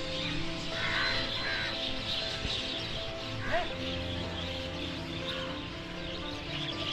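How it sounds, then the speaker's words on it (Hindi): A crow caws faintly once or twice outdoors beside the Yamuna river in Vrindavan, distant against steady traffic-like rumble and open-air hiss. "एक कौवे भाई,"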